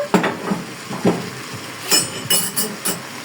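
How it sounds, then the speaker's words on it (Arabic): A spoon clinks and scrapes against a pot while peas and vegetables are stirred and sautéed, a few sharp metallic taps spaced irregularly over a quiet kitchen background. "نقلب بقى كده، نشوحها شويه"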